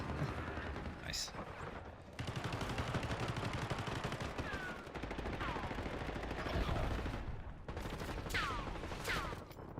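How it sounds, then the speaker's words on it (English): Gunfire in a live-streamed shooter video game, heard as bursts of rapid shots and sharp impacts at moderate level, with quick descending whistles and zips cutting through, under players talking over voice chat. "I'm gonna shoot Bailey."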